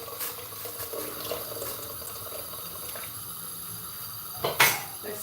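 Boiled water pours steadily into a cooking pot as a continuous close-up splashing wash, ending in a brief louder splash near the end, with no talk.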